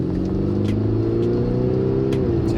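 A 347 hp Audi SQ5 TDI quattro with a V6 diesel and Tiptronic gearbox pulls hard on a road, its engine note climbing steadily in pitch as it gains speed, loud and continuous without talk.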